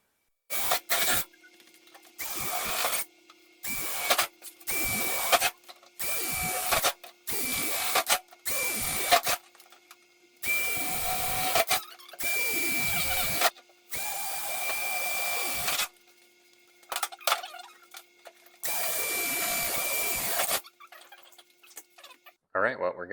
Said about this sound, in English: and then start drilling the holes.